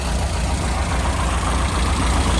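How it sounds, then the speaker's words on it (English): A heavy-duty off-road buggy idles steadily through a quiet exhaust, a constant low rumbling drone with a smooth, unbroken texture, close and fairly loud. "Quiet exhaust."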